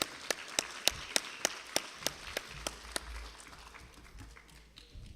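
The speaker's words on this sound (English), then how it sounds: "Let's give him a round of applause." Small audience at a Harvest Holidays Queen Show clapping in sharp, evenly spaced claps that thin out and fade after a few seconds.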